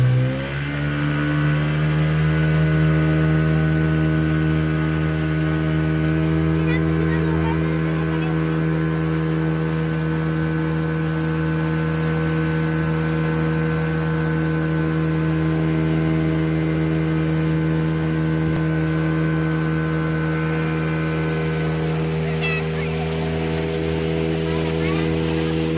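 A motorboat engine drones steadily near and loud, a sustained tonal hum with a slight rise at the start, running on without a break.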